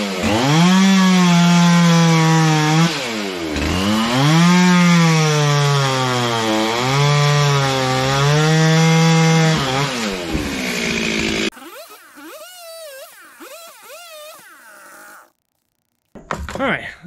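A chainsaw bucks overhanging firewood at a log pile, running loud and steady with rising and falling engine pitch as it cuts, then drops to a rougher idle before cutting out.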